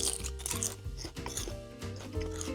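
Crisp bites and chewing of a spicy blood orange salad with crunchy peanuts and clementine crisps, several close, sharp crunches in quick succession.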